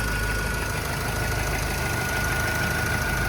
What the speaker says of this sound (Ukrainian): Дуже непогана робота мотора